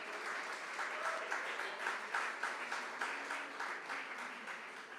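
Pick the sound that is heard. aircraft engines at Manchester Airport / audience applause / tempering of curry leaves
audience applause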